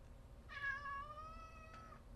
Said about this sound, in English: out of nowhere, my cat wants my attention